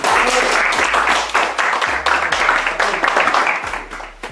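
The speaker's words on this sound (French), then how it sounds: "Applaudissements pour Anis." A group of people applaud in close, lively clapping that swells and fades slightly over a few seconds, with some voices mixed in beneath it.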